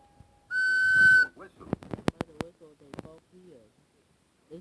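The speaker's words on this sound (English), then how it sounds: "Suddenly, there was a bang, loud whistle." A single loud, shrill whistle blasts for about a second, followed by sharp clicks and a voice speaking.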